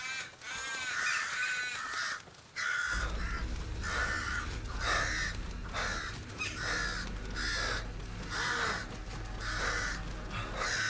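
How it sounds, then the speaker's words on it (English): Crows in a survival video game caw repeatedly and loudly over a steady low game rumble, with harsh calls coming in a continuous rapid series. "So crows are vicious."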